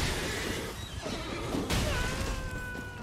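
Horse neighing in the video game Elden Ring, a loud drawn-out whinny over steady game ambience, with no talk.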